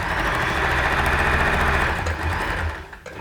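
Close, loud sewing machine stitching a seam on a dress, a rapid steady mechanical whirr with needle chatter that slows and stops near the end.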